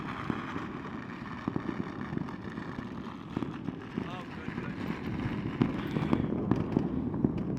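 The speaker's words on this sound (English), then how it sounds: "Fireworks!" Fireworks crackle and pop at a distance in irregular bursts over a Chinese city, heard outdoors under wind noise and people talking nearby.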